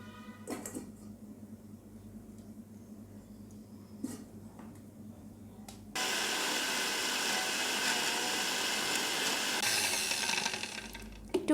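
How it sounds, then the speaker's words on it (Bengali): A mixer grinder whirs loudly and steadily as it grinds boiled banana flower in the kitchen. Quieter clinks and handling noises come first, then the motor runs for several seconds. "এবার আমি মিক্সার গ্রাইন্ডারের মধ্যে সেদ্ধ মোচাটা দিয়ে দেবো।"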